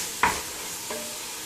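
Pork pieces for a BBQ pork burrito fry in a pan under a soft steady sizzle, with two quick scraping stirs, close and without talk.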